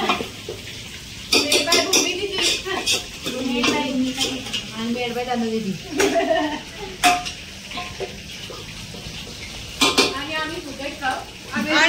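Chicken sizzling and frying in a pan while being stirred, with clanking utensil scrapes in bursts over a steady frying hiss, close up, with people talking throughout.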